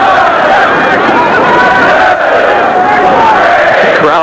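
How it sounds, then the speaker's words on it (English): Large crowd at a 1989 Texas vs Texas A&M college baseball game roaring continuously as the batter swings, a dense loud wash of cheering and shouting with no break. "Crowd on Butcher each time he swings the bat."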